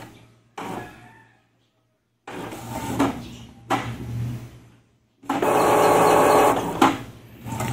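An Epson L11050 inkjet printer whirs and grinds through its startup after a reset in several mechanical bursts separated by short silences, ending with a long, loud run of motor noise.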